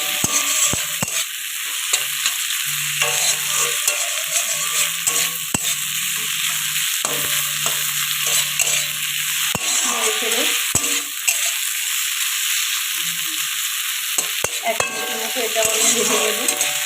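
Grated ginger and sliced tomato fry in hot oil in a pan for a fish curry, giving a steady, fairly loud sizzle with occasional soft scrapes and clinks of a utensil.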